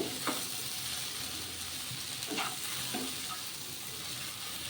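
Okra and potato curry with gram flour sautés in a pan: an even, moderate sizzle throughout, broken by a few soft scrapes of stirring.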